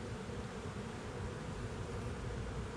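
Honeybees in a hive box during an early December inspection give a faint, dense, continuous hum close up, steady throughout with no voices.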